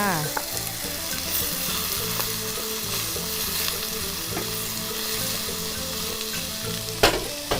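Minced pork stir-frying in a pan for a chili paste: a steady, loud sizzle runs throughout, with scraping and stirring clatter and a sharper clank near the end. No voices.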